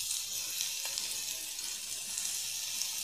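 Garlic frying in oil for a brinjal and potato bhaji gives a continuous, even hiss of sizzling at moderate volume throughout, with no talk.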